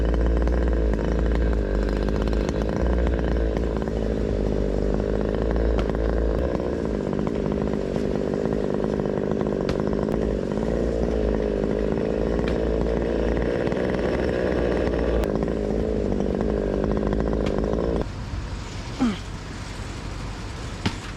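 A chainsaw fitted with a 36-inch bar roars loud and close as it cuts through big timber in wet Washington weather, running steadily for about eighteen seconds before throttling down and going quiet.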